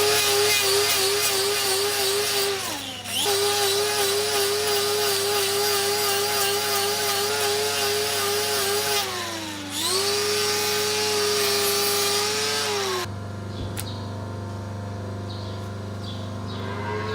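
A hoof-trimming power tool grinds loose horn from a cow's damaged hoof, a loud steady whine that dips in pitch twice as it bites into the horn, then cuts off, leaving quieter rubbing and handling noises.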